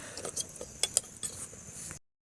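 A ladle or spoon stirring handi-style mutton curry in a metal pot, giving a few light clinks and scrapes against the rim over about two seconds, close and fairly quiet.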